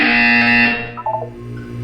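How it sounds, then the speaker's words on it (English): Buzzer in the video game Portal 2, a loud, harsh electronic tone sounding for under a second before cutting off, followed by a brief quieter electronic blip. "When you hear the buzzer, look up at the ceiling."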